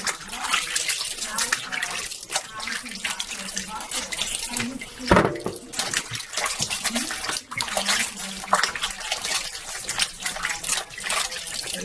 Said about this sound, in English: Rinsing our masks.